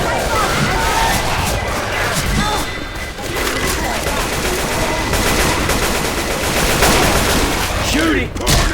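Rapid automatic gunfire in the zombie shooter game Left 4 Dead 2, dense bursts of shots with crashing and splintering impacts throughout, loud and continuous with players' voices mixed in.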